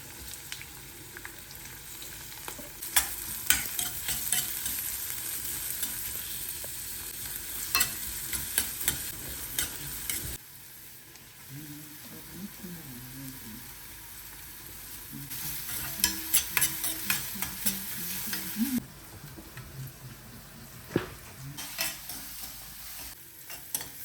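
Green chillies and then onion stirred and sautéing in hot oil in a home kitchen pan, a steady sizzle and frying hiss with repeated sharp scraping and clinking of the spatula against the pan, close up, no talk.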